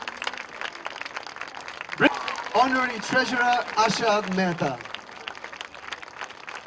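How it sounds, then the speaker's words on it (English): Steady audience clapping at a ceremony, fairly faint and continuous, while a man announces a name over a microphone partway through. "Ladies and gentlemen, we cannot stop the applause."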